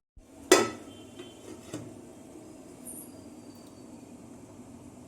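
A single clattering clank of a metal lid set onto a pot for steaming Bengali bhapa pitha stuffed with semolina and coconut, loud and close, followed by a couple of lighter taps and quiet kitchen hiss.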